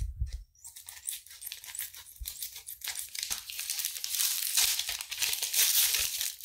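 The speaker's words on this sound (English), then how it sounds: "just cut them open while they're frozen and kind of just peel that bag right" Plastic bag being cut open and peeled away from a frozen block of mashed potatoes, with close, steady crinkling and tearing that grows louder and denser toward the end, no talking.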